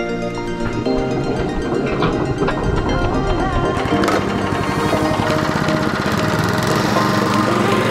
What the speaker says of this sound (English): But let's give it its first mow, eh?